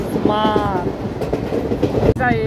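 Passenger train running on rails between Nalbari and Bongaigaon in Assam, heard from inside the carriage: loud continuous rumble and rattling with brief tonal squeals, and a sharp dropout near the end.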